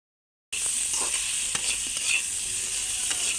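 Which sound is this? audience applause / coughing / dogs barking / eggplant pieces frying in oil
eggplant pieces frying in oil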